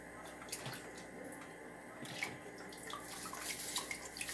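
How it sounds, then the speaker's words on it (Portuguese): Mango liqueur is poured through a paper filter, giving a quiet, continuous liquid trickle with soft drips. The sound is close and faint, with no talking. "E eu vou despejar ele aqui, ó. Pra ele poder filtrar."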